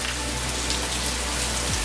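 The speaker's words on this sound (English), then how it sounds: "I'm not experienced rain like this." Heavy tropical downpour hammers steadily on surfaces, a dense continuous wash of rain with no voices, loud and close throughout.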